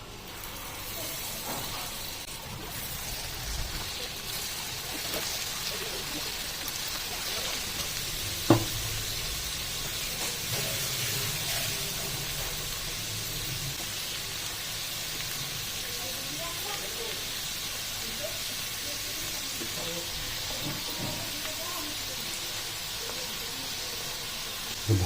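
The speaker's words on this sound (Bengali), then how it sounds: "তেল গরম হয়ে গেছে, তো আমি এটা এরপর চিকেনটাকে ফ্রাই করে নেব।" Marinated chicken for a crispy restaurant-style starter frying in hot oil in a pan, giving a steady, even sizzle and hiss throughout with a few faint clicks, and no talk.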